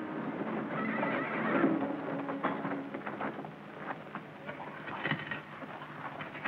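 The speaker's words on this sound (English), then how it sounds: "Jerry, take the horses back to General Johnson's camp" Horses whinny over the soft patter of hooves clopping on the ground in a 1951 Civil War film, a continuous moderate-level outdoor scene with no voices.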